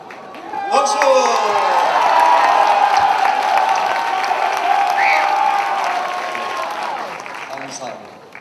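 Congregation at an evening worship service clapping as a large crowd, the applause swelling quickly, holding strong with some cheers and whoops, then tapering off while a voice speaks over it.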